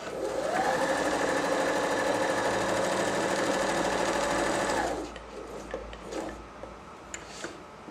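A Janome 521/525s sewing machine stitches in reverse with a loud, steady, rapid mechanical whir for about five seconds, then stops and leaves quieter handling clicks.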